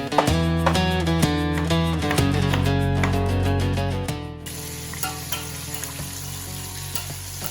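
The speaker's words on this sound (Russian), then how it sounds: "Дадим большим и средним кусочкам еще немножко поджариться" Pieces of oxtail fry in a pan with a steady sizzle, partly masked by loud, continuous music with changing notes throughout.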